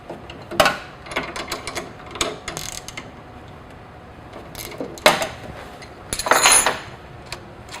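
Metal nuts and bolts at connection points being loosened with 13mm wrenches, giving sharp clicking and ratcheting bursts at irregular intervals, close and fairly loud with quiet gaps between.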